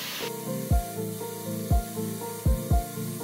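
A drill-mounted brush scrubs stains out of a fabric car seat sprayed with cleaner. It gives a steady whirring rub with a tonal motor hum, broken by several sharp low thumps as the brush presses and shifts.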